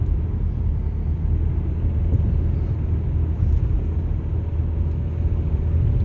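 Steady low rumble of a 2009 Nissan Altima driving along, heard from inside the cabin as continuous road and engine noise with no talking.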